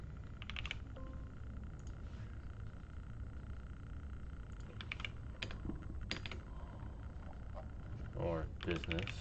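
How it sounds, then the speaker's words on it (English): Typing on a computer keyboard during a desk search, with short clusters of soft key clicks rising over a steady hiss and low background hum, near and fairly quiet, with a few faint frog-like croaks. "Let me type overview."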